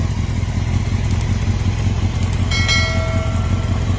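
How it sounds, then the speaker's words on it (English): A heavy motorcycle in Repsol livery with an exhaust leak runs at a steady idle close by, its low engine rumble continuous and even, with no talking over it. "Sounds like I got an exhaust leak though."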